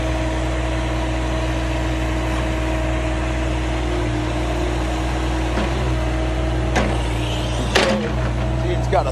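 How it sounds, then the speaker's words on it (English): A Caterpillar excavator working its hydraulic thumb to grab an old junk trailer, with a steady low engine drone throughout and a few sharp metallic clanks near the end. "We'll use the thumb and he'll grab that old junk trailer."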